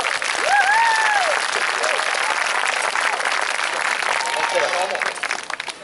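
Audience applause for the squire at a medieval comedy street show, a loud, dense crowd clapping that fills the whole stretch and thins slightly at the end, with brief vocal whoops early on.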